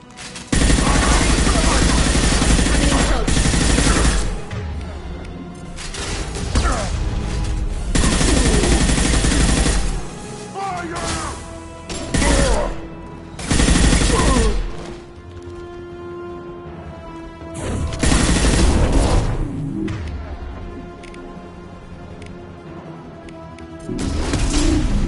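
Heavy bursts of gunfire and explosions in a Mass Effect-style sci-fi combat scene, loud, dense volleys with brief lulls, with voices shouting over the shooting.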